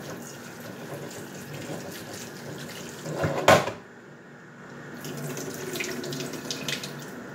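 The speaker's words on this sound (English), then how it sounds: "Now I'm going to rinse these off real quick." Vegetables such as asparagus rinsed under a running kitchen tap, a steady close stream of water splashing into a sink, briefly louder midway, then resuming after a short lull.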